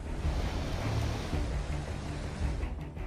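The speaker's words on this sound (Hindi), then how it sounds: "बादल फटने के बाद नदी में अचानक इतना पानी भर गया कि तबाही मच गई।" A flooded river in Himachal Pradesh, swollen after a cloudburst, rushes with a loud, dense, unbroken roar of churning water, close and constant from start to finish.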